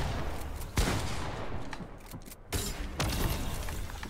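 Rapid bursts of gunfire in Fortnite crack out in two loud clusters separated by a brief lull, sharp and close, with no speech over them.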